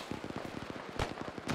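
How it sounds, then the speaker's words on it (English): Machine gun fire in the military shooter Arma 3, a fast, even rattle of repeated shots at moderate distance with a couple of louder cracks. "I can't hear you over machine gun."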